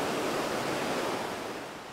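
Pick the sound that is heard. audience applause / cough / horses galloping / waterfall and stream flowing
waterfall and stream flowing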